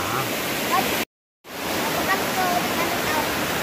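A small waterfall, steady rushing water close by, briefly cut to silence for a moment before the continuous roar resumes.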